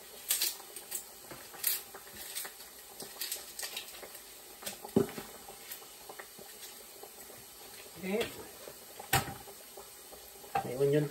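Lechon kawali pork frying in hot oil, a faint, steady sizzle broken by scattered pops and crackles, with someone speaking intermittently nearby.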